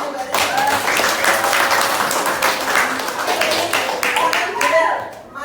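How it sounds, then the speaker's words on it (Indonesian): A primary school class claps for a student group in a lesson, lively close hand clapping in uneven bursts that grows and fades before a short trailing clap, with children's voices mixed in. "kita beri tepuk tangan untuk kelompok Mbak Riri."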